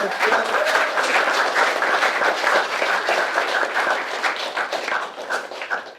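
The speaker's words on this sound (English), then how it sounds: "Can we get a round of applause?" A round of applause from a gathered audience at a university real estate association meeting, dense steady clapping filling the room for several seconds and tapering slightly at the end.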